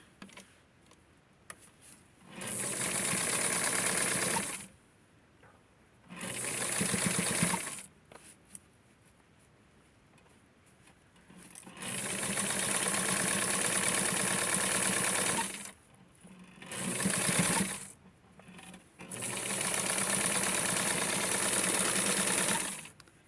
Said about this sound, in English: So I'm just going to fold this and hem it through, and then connect the back.